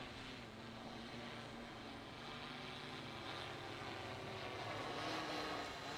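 A drone hums and whines steadily overhead during an infrared solar panel inspection, a continuous buzzing drone noise that holds at even loudness for the whole stretch with no talking.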